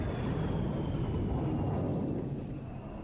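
Eurofighter Typhoon jet touching down and braking hard with canards deflected at an air show, a loud steady broadband engine roar with a faint high whine, gradually easing toward the end.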